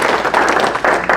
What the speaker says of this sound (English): can you give a round of applause to Jeff for taking care of us